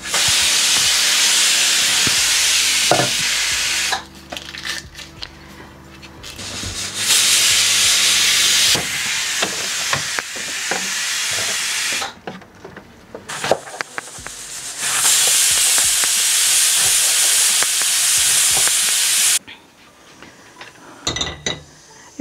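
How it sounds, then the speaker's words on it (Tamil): Pressure cooker whistle shrieking as it releases steam while chana dal cooks, a loud hissing blast that comes in repeated long bursts separated by quieter gaps with faint clinks. "இது இந்த விசில் சத்தம் கேட்குது உங்களுக்கு"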